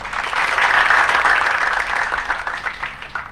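Applause on a radio call-in program, a soft, steady patter of clapping that rises slightly and then fades, with no talk over it.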